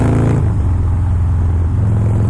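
Harley-Davidson Lowrider S with a 110ci engine and Vance & Hines exhaust, running cold and rough: a loud, close, steady low idle rumble that shifts pitch slightly partway through, with no talk.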